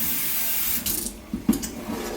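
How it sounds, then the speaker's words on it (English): Cold tap water runs steadily into a sink as boiled cabbage leaves are rinsed, a close, continuous splashing rush with brief shifts where the leaves move under the stream. "So we'll rinse it with cold water to cool"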